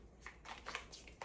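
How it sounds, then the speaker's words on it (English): Tarot cards being shuffled by hand, giving a few quiet, brief papery riffles and flicks in short bursts. "We're going to shuffle our cards, see what we've got."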